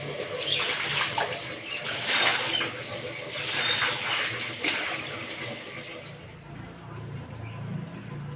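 Water splashes and swishes across a courtyard floor as it is washed, a steady close wet scrubbing and pouring sound that fades toward the end, with faint voices in the background.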